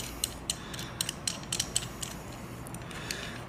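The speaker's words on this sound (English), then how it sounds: "you unscrew this damn thing" A plastic spray nozzle is twisted off by hand, giving a series of small ratcheting clicks at an uneven pace, close and fairly quiet, with the nozzle stuck from a busted O-ring.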